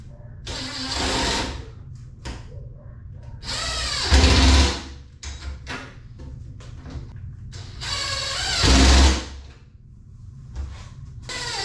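A power tool drives bolts into a louver on a Jeep hood, giving two loud whirring bursts with quieter clicks and handling noises between them, close by and with no talk.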